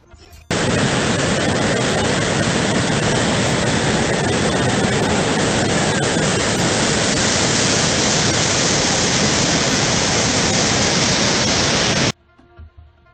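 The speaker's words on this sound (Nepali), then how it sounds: "यो झरनाको लम्बाइ 100 मिटर जतिको छ" A waterfall about 100 metres long in Nepal roars in a loud, steady rush of white water that runs unbroken, then cuts off abruptly.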